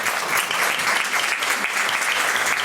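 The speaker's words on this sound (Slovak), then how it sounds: "Prosím, potlesk." An audience at a school education conference applauds as panel speakers are invited onto the stage, thick sustained clapping filling the room, loud and even with no talk over it.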